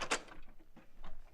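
An old-time radio drama door being opened after a doorbell rings, a short close clunk and rattle followed by a few faint scuffs and softer knocks in a quiet room.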